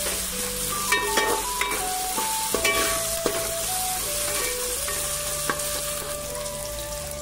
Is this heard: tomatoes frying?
yes